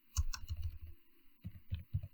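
Quick bursts of computer keyboard typing, a short run of clustered keystrokes, a brief pause, then several more distinct key clicks, close and fairly quiet with no voices.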